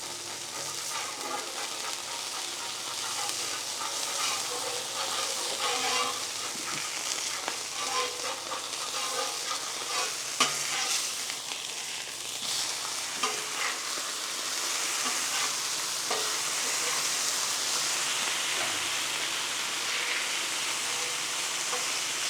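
Smash burger patties sear on a dry and a wet griddle surface, giving a dense, steady, close sizzle with occasional crackles and scraping taps throughout, and no talking.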